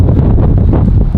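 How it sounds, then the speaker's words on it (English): Strong wind buffets the microphone on a windy clifftop beside a tower above a sheer drop on the Elie Chain Walk, Scotland, a loud, continuous low roar with no talk. "it's right on a cliff, and it's quite windy today."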